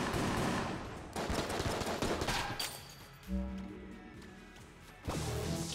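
Judge shotgun blasting in Enter the Gungeon, a loud burst of rapid gunfire in the first seconds, then quieter game sounds with tonal effects and a second heavy blast near the end.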